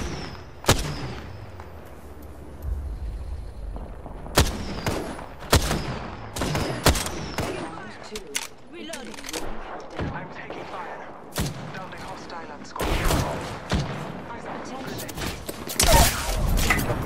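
Gunfire in an online team-versus-team video game, with sharp single shots and quick bursts cracking out at irregular intervals and some loud booms, while players talk now and then.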